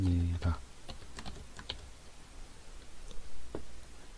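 Typing on a computer keyboard while entering Python code, with a few scattered key clicks and one firmer keystroke like Enter, fairly close and quiet, after a brief burst of voice at the start.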